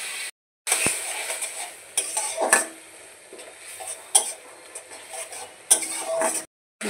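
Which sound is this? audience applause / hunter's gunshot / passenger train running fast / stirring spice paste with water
stirring spice paste with water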